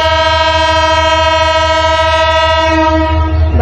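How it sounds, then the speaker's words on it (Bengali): A train passing through a Bangladeshi village, its horn sounding a loud, sustained blare close by over a deep rumble of the moving cars, with the pitch dipping slightly at the end. "বাপরে কি আওয়াজ, মানে ট্রেন এখন সারি"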